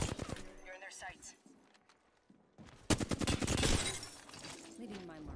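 Rapid bursts of video game gunfire in a shooter match with rechargeable shields crackle in sharp clusters, with a louder automatic volley near the end, while a player talks over the shots.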